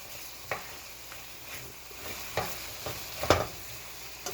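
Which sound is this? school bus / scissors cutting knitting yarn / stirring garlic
stirring garlic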